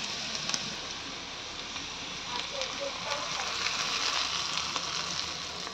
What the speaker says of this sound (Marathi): गरम गरम तडका या आपल्या उकळत्या जे आपण ग्रेव्ही तयार केली त्यावर घालून घ्यायचा आहे